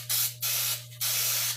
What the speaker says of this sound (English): My grandma always told me you spray the pan well.